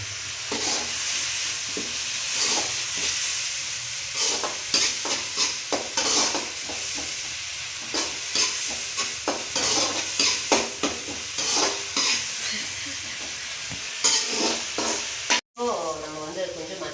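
Two ground tomatoes, blended to a paste, sizzle and bubble in a hot pan for pasta while a spoon scrapes and stirs through them in repeated strokes, close and steady, ending with a sharp clack.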